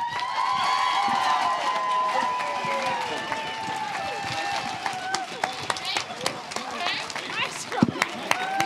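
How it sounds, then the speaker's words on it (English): Live audience at a youth hip-hop performance claps and cheers steadily, a dense continuous crowd wash with sharper individual claps toward the end, while an amplified voice talks over it. "Let's keep the round of applause going"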